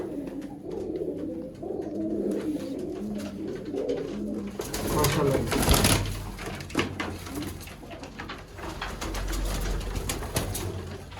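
Sialkoti pigeons coo in repeated low rolling calls close by, with someone speaking briefly over them and some rustling and fluttering partway through.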